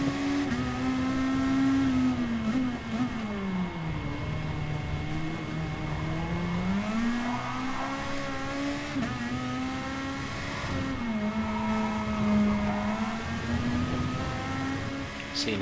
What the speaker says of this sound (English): now these cars seem a lot louder than the GR4s